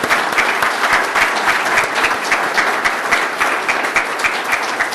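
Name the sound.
audience applause at police awards ceremony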